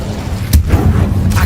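Incendio fire spell cast in Hogwarts Legacy: a loud whooshing burst of flame with heavy booming thumps, a sharp blast near the middle and another toward the end over continuous rumble.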